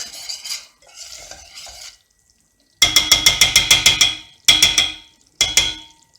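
Flour being roasted dry in a pan for Kayseri-style aside dessert, stirred with a utensil that scrapes against the pan in quick rhythmic strokes, with close, crisp bursts separated by short pauses.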